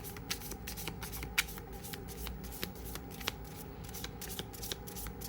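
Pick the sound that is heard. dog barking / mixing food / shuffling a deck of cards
shuffling a deck of cards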